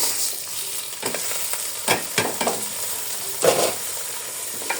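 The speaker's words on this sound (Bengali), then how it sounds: "আর আদা রসুনের পেস্টটা আমি সবসময় চালের সাথে ভাজি" Polao rice fries in a pan with ginger-garlic paste, giving a continuous hiss of sizzling oil broken by several sharp scraping stirs of a spoon against the pan.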